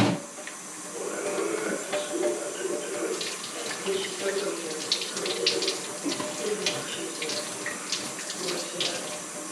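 Hot water runs steadily from a tap while a black powder revolver is scrubbed clean, a constant close rushing hiss with scattered small clicks and knocks from handling.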